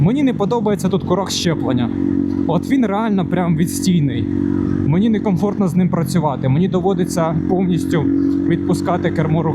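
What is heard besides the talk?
No distinct noise like a dog, phone or traffic.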